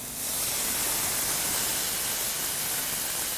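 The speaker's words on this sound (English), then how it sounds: "veg stock goes in. You want it to sizzle." Vegetable stock poured into a very hot pan sizzles in a steady, loud, broadband hiss that holds evenly throughout, close and alone with no talk.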